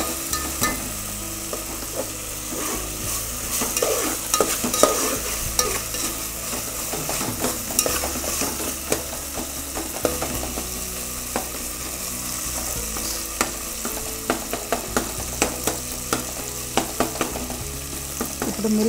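Cardamom, cloves and shahi jeera sizzle and fry in a pan for a coconut milk rice dish, a steady crackling hiss broken by frequent scraping stirs and clinks, loud and close with no talk over it.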